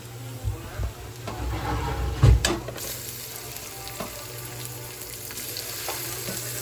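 Onion and tomato sizzle and fry in a hot pan, a steady close crackle with brief stirring scrapes and a louder burst near the middle, no talk.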